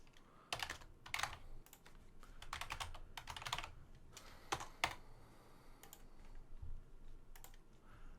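Computer keyboard typing as menu names are entered into a website builder's gallery settings: close, crisp clusters of keystrokes in several quick bursts separated by short pauses, with no talking.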